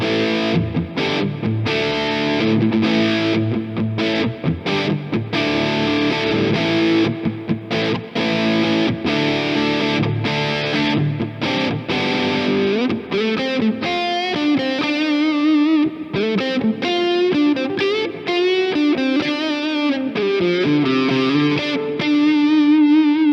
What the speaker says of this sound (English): This is what the middle position sounds like with overdrive on.